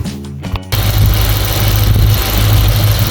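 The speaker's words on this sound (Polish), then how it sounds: "tak trochę dziwnie na kamerze działa ten silnik" An Audi RS4 B7 engine idles loudly and steadily up close, a deep continuous rumble that starts abruptly after a brief moment of other sound.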